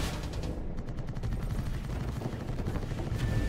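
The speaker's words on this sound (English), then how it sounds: "Oh boy, that's a lot of missiles." Salamander missiles firing in a space battle in Starsector with the Nexerelin mod, a dense, continuous barrage of rapid launch bursts and explosions, loud and steady throughout.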